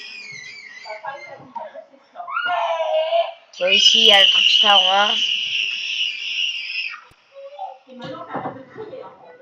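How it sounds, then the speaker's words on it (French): A young boy screams and cries loudly in a room, with high, wavering shrieks in the middle, while someone talks before and after. "désolé pour les cris, c'est mon petit frère"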